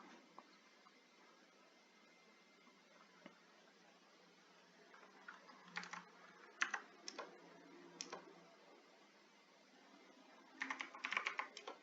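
Keystrokes on a computer keyboard entering Linux terminal commands on Ubuntu, sparse scattered clicks early then short bursts of faint, close-up taps with quiet gaps between them.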